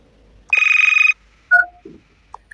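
A phone line rings once in a steady trilling burst while calling a cafe, followed by short electronic tones and a faint click, with no talking.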